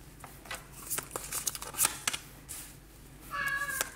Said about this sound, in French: Vous entendez peut-être mon chat qui est en train de miauler.